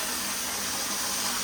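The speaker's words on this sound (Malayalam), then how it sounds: "ഇനി വെള്ളം നിറയ്ക്കാൻ തുടങ്ങുകയാണ്" Water gushes into an ice bath in a steady, bright hiss-like rush, continuous and close without pause.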